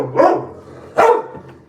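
A puppy barks twice, about a second apart, close by and loud, with a quieter yelp near the end.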